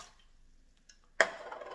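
Water pours into an Instant Pot, starting suddenly after a faint clink and continuing as a loud, splashing stream.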